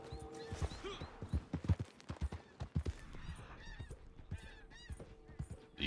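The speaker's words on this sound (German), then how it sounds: "Gute Henne." Hen clucking in the Red Dead Redemption 2 online video game, busy honking fowl calls repeated over layered game ambience with clip-clop hoof sounds, moderately loud and continuous.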